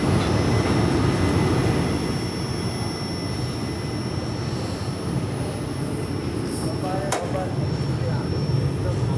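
Inside a 3 AC coach of the Rajya Rani Express from Nanded to Mumbai, a continuous low rumble and rattle of the train rolls on steadily, with a high whine running through and a brief sharp clack near the end.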